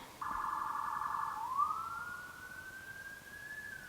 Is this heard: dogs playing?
no